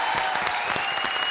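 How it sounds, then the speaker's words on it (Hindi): A comedy show studio audience breaks into applause, a dense, steady wash of clapping that is moderately loud and even throughout, with no voices standing out. "लेडीज एंड जेंटलमैन, जोरदार तालियां।"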